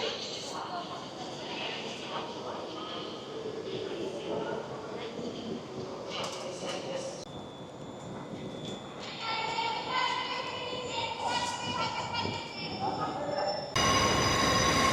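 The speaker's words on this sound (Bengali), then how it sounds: "আমরা এখন উঠবো ওই ট্রেনে।" A train waiting at a station platform, with a steady low rumble, hiss and hum, metallic squeals and tones building toward the end, amid echoing station ambience and distant voices.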